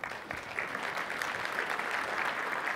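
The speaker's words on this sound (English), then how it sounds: "give each of you a round of applause" Conference attendees at a networking keynote give a round of applause, an even wash of clapping heard from a distance at a fairly low level, without speech.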